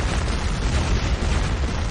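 Cannon firing in a dramatized battle scene, a loud sustained roaring blast that fills the whole moment with dense rumbling noise, with no voices over it.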